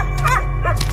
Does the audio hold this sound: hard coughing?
no